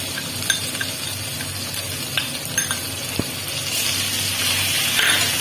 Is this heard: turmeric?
yes